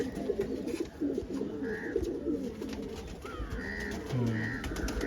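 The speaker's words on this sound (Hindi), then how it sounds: "ये भी बहुत उड़े कबूतर हैं, इनकी आँख थोड़ा अलग है।" Several flying pigeons of a brown-bellied breed coo in repeated low, rolling calls close by, steady throughout with light background noise.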